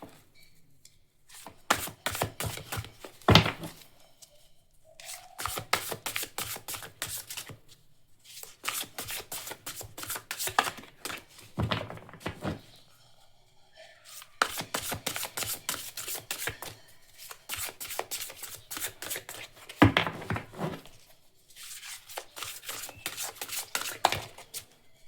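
Tarot cards are shuffled for a reading in repeated riffling bursts, each a rapid papery flutter lasting a few seconds and separated by short pauses, close and crisp, with no voices.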